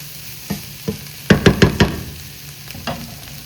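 Rice-string noodles are stirred and fried in a pan, a few sharp scraping and clattering strokes, a quick burst of four in the middle, over a faint background sizzle.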